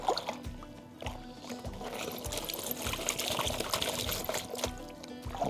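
Water pouring and sloshing in a gold pan while dredge tailings are panned outdoors, with irregular splashes and gravel knocks over a continuous watery wash.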